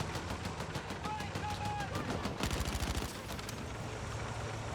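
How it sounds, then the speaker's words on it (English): Enemy machine gun fire in Battlefield 6, a rapid run of loud, tightly spaced bursts that peak midway, mixed with other battlefield gunfire and noise while voices talk over it. "Enemy machine gun!"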